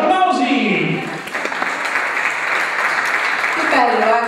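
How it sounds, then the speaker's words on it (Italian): An audience applauds a young singer at a children's song contest, steady crowd clapping in the middle stretch, with a voice talking at the start and again at the end. "Applausi!"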